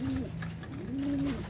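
Racing pigeons in a loft coo in low, throaty rolling calls, two drawn-out coos close by over a steady background hum.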